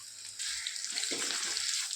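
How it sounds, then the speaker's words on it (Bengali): Turmeric-coated taro (kochu) pieces fry in hot oil with a steady, close hissing sizzle that swells partway through, with soft bubbling underneath and no talking. "কচুগুলো তেলে ভেজে নিচ্ছি।"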